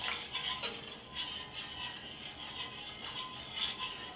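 A whisk scrapes and stirs through roast beef gravy in a pan, with soft repeated clinking strokes and a faint bubbling background, close and fairly quiet.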